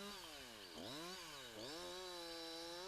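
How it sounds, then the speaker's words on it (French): A Jonsered chainsaw engine revs and dips steadily, its whine rising and falling as it cuts branches from the upper trunk, loud and continuous with no talking. "Sciez les branches de la partie supérieure du tronc, la tronçonneuse reposant sur le flanc"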